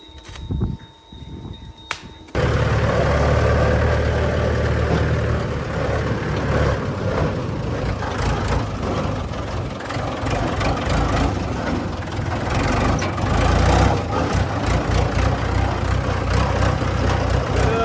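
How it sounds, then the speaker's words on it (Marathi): A tractor engine starts up after a short quiet stretch near the beginning, then runs steadily and loudly close by, with a dense low rumble that holds through to the end. "पहिल्यांदा अशा पद्धतीने ट्रॅक्टर चालवतोय मी"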